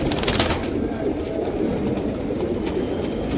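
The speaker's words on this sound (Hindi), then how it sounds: "इसमें टोटल सारंगपुरी कबूतर आपको दिखाए जाएंगे" Sharangpuri pigeons cooing in a flock at a keeper's loft in Kurla, Mumbai, a steady low murmur of overlapping coos with no clear pauses.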